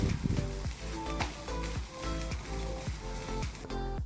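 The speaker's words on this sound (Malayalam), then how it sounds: "അടുത്ത് നിന്ന് തന്നെ നമ്മൾ വറുക്കണം, അല്ലെങ്കിൽ കരിഞ്ഞു പോവും" Grated coconut roasts in a pan for a varutharacha prawn curry, giving a soft, dry sizzle broken by repeated rhythmic scrapes of stirring.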